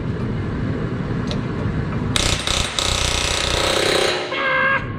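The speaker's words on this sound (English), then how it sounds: "hammering right here like 3 different times, we finally got the pin out" Metal hammer blows driving a stuck pin out of a John Deere 9150 tractor being split, heard as a few loud, sharp impacts in quick succession over a steady background din.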